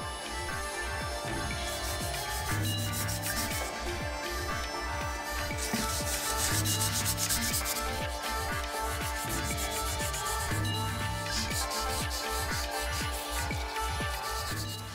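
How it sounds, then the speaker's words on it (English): Sandpaper rubbing over the surface of a porcelain vase plaster mould, a steady rhythmic back-and-forth scraping held at an even level throughout, close up and without talk. "make the surface nice and clean with sandpaper"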